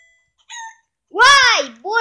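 Cartoonish video game chicken squawks and clucks, loud and close, a short cluck followed by a longer warbling squawk and another starting.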